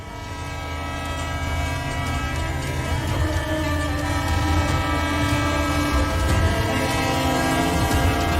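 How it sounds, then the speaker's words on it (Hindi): Loud train rumbles in during a film scene, a steady heavy roar of rail cars with horn-like tones, building slightly and continuing throughout. "Now the train is here."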